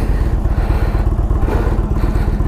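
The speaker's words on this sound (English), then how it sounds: "it's a 1811cc twin, and this is a huge bike" A 2017 Indian Chieftain Dark Horse with its 1811cc V-twin runs close by, a steady loud engine rumble with rapid low thumping pulses and some mechanical clatter throughout.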